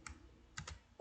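Faint computer keyboard clicks from pressing the Ctrl C copy shortcut, a few soft quick taps close by in a quiet room.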